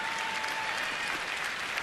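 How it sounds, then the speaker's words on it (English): Baseball fans applaud Josh Willingham at a Minnesota at Washington game, a steady, dense clapping from a large stadium crowd heard from a distance. "Well, a nice round of applause right there"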